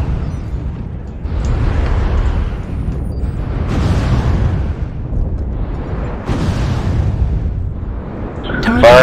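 Weapons firing in MechWarrior Online on an alpine map: four heavy, roaring bursts spaced a couple of seconds apart, each swelling and then fading into a low rumble, with a sharper crack at the end and a voice speaking between the blasts.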